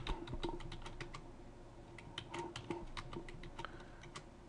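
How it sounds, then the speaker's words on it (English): Fast bursts of typing on a computer keyboard, sharp key clicks in quick irregular runs, close and alone without talk. "I'm going to type in several of these breaks."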